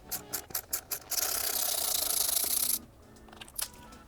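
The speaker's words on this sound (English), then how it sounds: "remove these 4 mounting bolts for the OEM Fender" A ratchet works loose the fender mounting bolts, which have washers and Loctite, on a 2021+ Kawasaki ZX10R. Several quick ratcheting clicks come first, then a longer steady whirring run, then a few more clicks, close and alone.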